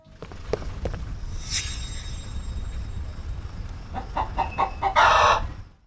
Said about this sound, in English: after choosing easy, you'll be greeted by a chicken sound, which is pretty funny.